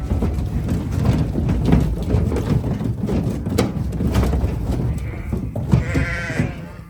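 Several sheep bleat and baa around a dirty livestock trailer on a dairy farm, overlapping calls near and far amid shuffling and metallic rattling, with a clearer higher bleat near the end.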